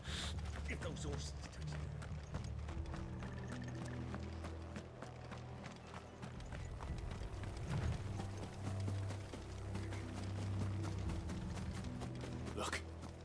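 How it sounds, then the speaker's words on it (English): Horses galloping in the Final Fantasy XVI video game, a steady rhythmic clip-clop of hooves running throughout under music and low game ambience, with a voice speaking briefly. "Get those horses."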